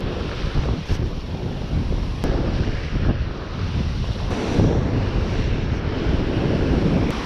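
Ocean waves roll and break steadily along a Virginia Beach shoreline in spring, a loud continuous wash of surf with wind buffeting the microphone throughout, no voices.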